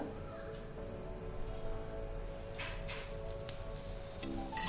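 An oats dosa sizzles softly on a hot pan as a little oil is poured around its edge, a steady close crackle with a few brighter spits near the end.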